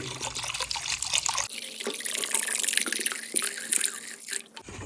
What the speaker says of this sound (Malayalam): ഇനി നമ്മുടെ വെള്ളം ഒഴിച്ച് കൊടുക്കാം സാധാ വെള്ളം